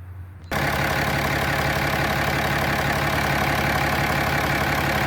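A Dodge Ram 6.7 Cummins diesel fires up right after a fuel filter change, then settles into a loud, steady idle. The rough, continuous rumble stays close and fills the rest of the clip.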